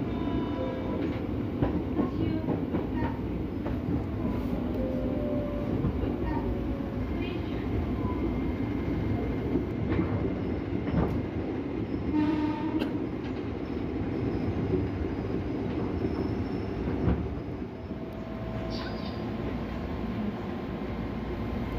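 Passenger train pulling out of Bekasi station on the Bekasi–Cakung double-double track, a steady loud rumble with rail clatter and brief squeaks, continuous throughout.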